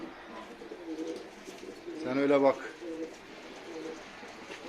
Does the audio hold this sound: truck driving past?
no